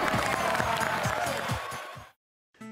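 A studio audience claps in a dense burst of applause that fades out after about two seconds, followed by a short silence.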